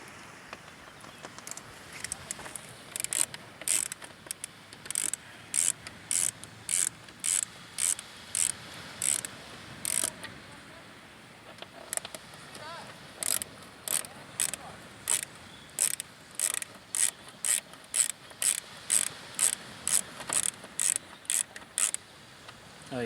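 A ratchet loosens 5mm bolts on the front fairing of a Triumph Daytona 675, a close, rapid clicking in short bursts, pausing briefly between turns.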